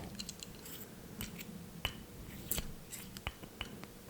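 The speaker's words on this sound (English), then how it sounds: "Now the pen is apart, let's put it back together." Small plastic clicks and taps of a Japanese pen's parts being fitted together, a scattered series of sharp close-up snaps over quiet background.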